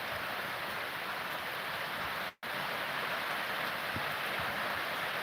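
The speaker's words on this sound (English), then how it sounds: "nice warm summer rain" Warm summer rain falls in a steady, dense hiss, close and even, with a brief dropout partway through and occasional soft taps.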